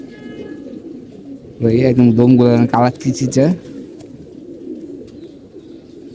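Red-ringed pigeons give a single close, resonant cooing phrase lasting a couple of seconds, then fall quiet, with someone speaking briefly under faint background noise.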